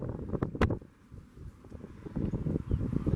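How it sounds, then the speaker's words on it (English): Gusty wind buffets a microphone outdoors during a thunderstorm under a shelf cloud, with loud surging rumbles that dip briefly and then build again. "But it is pretty windy."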